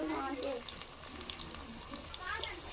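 Onion pieces and green chillies sizzle steadily in hot oil in a home kitchen while chicken biryani is being prepared, a continuous close crackle with a faint voice in the background.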